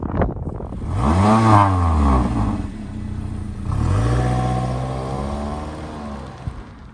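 Toyota Corolla S engine under way, accelerating with a steady mid-pitched drone that rises and falls twice in revs, heard close from inside the car with no talking.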